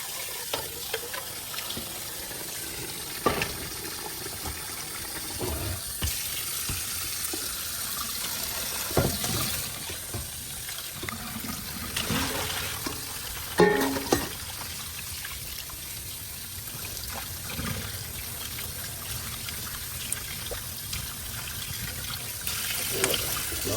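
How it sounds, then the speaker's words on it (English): Water being strained from a pot of cooked rice, a steady close pouring and splashing into a sink, with trickles and occasional clanks of the pot. "Alright, our rice is ready. Now we're gonna strain it first."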